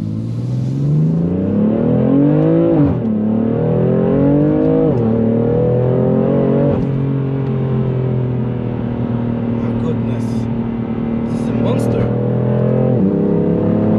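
A BMW M3 with a BootMod3 tune, in sport plus mode, drives through a U-turn. Its engine note climbs and dips through several gear changes, loud and close from inside the car, with a voice talking over it.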